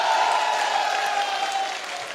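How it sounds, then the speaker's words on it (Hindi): Audience clapping loudly and steadily throughout, a dense sustained burst of applause from a seated crowd at a live event, with no speech over it. "जोरदार ताली बजा के दिखाओ"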